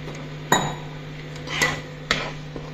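A spoon clanks against a pan while masala chaap is stirred in a spiced gravy, giving three sharp metallic knocks spaced about half a second to a second apart over a steady low cooking hum, with no talking.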